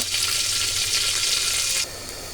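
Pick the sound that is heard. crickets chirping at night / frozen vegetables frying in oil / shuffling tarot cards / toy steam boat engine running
frozen vegetables frying in oil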